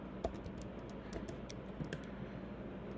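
Fingers tap on a computer keyboard while HTML code is entered, giving scattered close, crisp clicks in short irregular runs over a quiet background.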